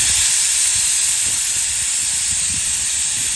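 A pressure cooker full of mutton trotter shorba vents steam in a loud, unbroken hiss that holds steady from start to finish.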